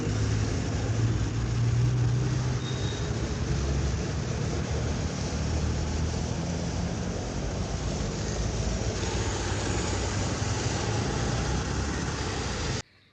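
A vehicle drives through floodwater during heavy rain in Jaffna, a constant loud rush of splashing water and engine hum that fills the whole stretch before stopping abruptly at the end.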